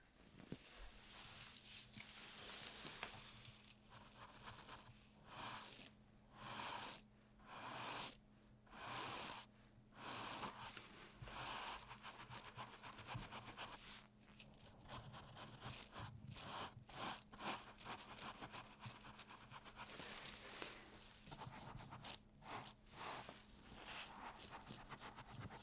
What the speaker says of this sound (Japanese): ブラシできれいにしますよ。